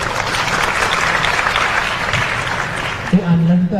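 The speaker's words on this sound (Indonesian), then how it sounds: "Tepuk tangan dulu." Audience of high school student council leaders clapping at a panel discussion, a sustained dense round of applause that fades near the end as a voice begins speaking.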